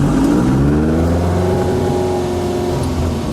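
A 1965 ASA 1000 GT Spider's engine revs up loud and close, its pitch climbing smoothly through a short burst of acceleration with a steady mechanical whir underneath.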